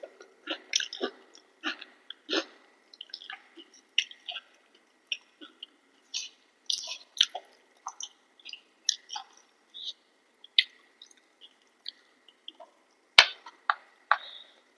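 Chewing and crunching close up while eating a Bengali meal of bean poppy-seed mustard curry, mung dal, mashed potato, fried lentil dumplings and fried bitter gourd, with irregular soft bites and crunches scattered over a quiet background.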